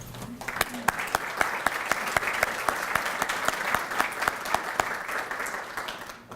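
An audience at a community volunteer recognition event gives sustained applause, with dense clapping at a moderate distance and a few sharp individual claps standing out. It starts together with brief talk, then continues steadily to the end.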